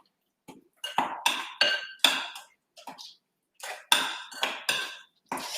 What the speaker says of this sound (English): So it will look quite lumpy, a bit slimy. That's normal, so don't worry. Just keep stirring.